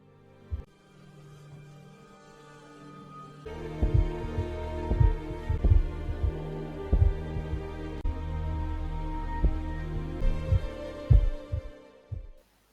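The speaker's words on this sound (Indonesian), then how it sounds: "Raizo terkejut ketika ia bisa mendengar detak jantung Kiriko yang terdengar jelas di kejauhan" Heartbeat sound effect in a ninja action film, a run of deep, loud thumps in an uneven throbbing rhythm over a low hum, starting after a quiet opening.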